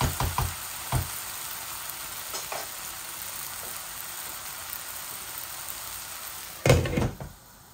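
Hilsa fish heads fry in a pan with taro greens, giving a steady, soft sizzle. A few clunks of stirring come near the start, and a louder knock of utensil on pan comes near the end.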